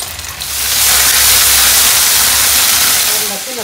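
Ginger garlic paste hits hot oil in a pan for a jackfruit biryani, giving a loud, broad sizzling hiss that swells and holds for a few seconds before easing off.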